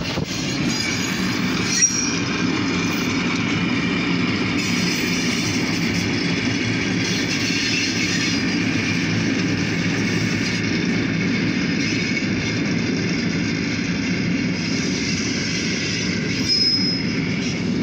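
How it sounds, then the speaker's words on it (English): A light power freight train rolls past heading to the freight yard in Titusville, Pennsylvania, a loud continuous rumble of wheels on rail with faint squeals and clicks, steady throughout with no talk. "We have a light power train heading back to the freight yards."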